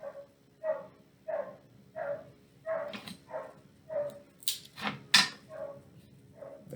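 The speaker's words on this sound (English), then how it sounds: "there's a dog that's barking right now" A dog barks in a panicked, crying way, a string of evenly spaced yelping barks and whimpers at moderate distance, with a couple of sharper, higher cries near the end.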